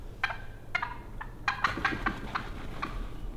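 Several wild turkeys gobble from their roost near a tree stand, giving a run of sharp, rattling calls. Some calls sound close and others farther off, against a quiet outdoor background with no talking.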